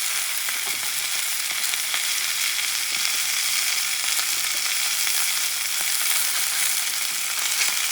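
Flank steak frying in a hot pan, a loud, steady sizzle with crackling spits and pops running continuously, close up, with no talking over it.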